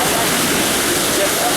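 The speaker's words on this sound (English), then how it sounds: "Oh, we're going to see waterfalls. Another waterfall." A waterfall in Sri Lanka roars as a steady, broadband rush of falling water, loud and close, filling the whole moment without pause or voices.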